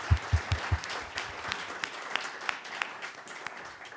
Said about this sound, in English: can we give our competitors one more round of applause?